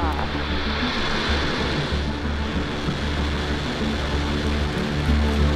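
SpaceX Transporter-3 rocket at liftoff gives a loud, steady, broadband roar with heavy low rumble that holds throughout, with possible music or voice faintly mixed underneath.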